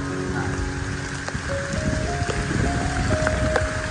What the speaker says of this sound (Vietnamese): Hôm nay trên bản là mưa gió